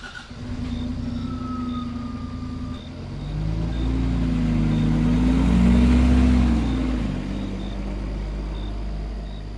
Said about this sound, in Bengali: গাড়িটা সশব্দে গ্রামের দিকে এগিয়ে চলে।